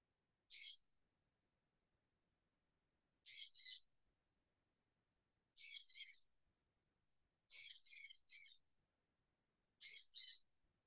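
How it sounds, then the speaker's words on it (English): Pet birds chirping in a quiet home, five short bursts of high, thin calls spaced a couple of seconds apart, faint and somewhat distant against near silence. "You can hear my birds in the background."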